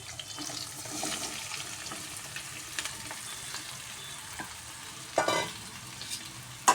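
Sweet potato pieces stir-frying in a pan for a fasting dish, with a soft sizzle, occasional scraping strokes and a couple of louder clatters near the end, and no speech.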